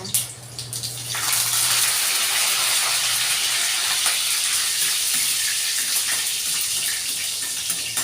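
Garlic and curry leaves dropped into hot oil with mustard seeds in a home kitchen, a loud, steady sizzling hiss that erupts after a second and holds for the rest of the clip, with no talk.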